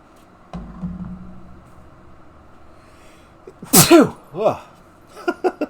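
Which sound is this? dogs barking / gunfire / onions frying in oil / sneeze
sneeze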